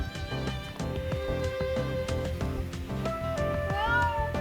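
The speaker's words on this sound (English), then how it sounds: "I just happened to overhear meowing." A cat meows repeatedly in the video game Illusion of Itehari, high tonal mews rising over a busy game music backdrop, clear and fairly close.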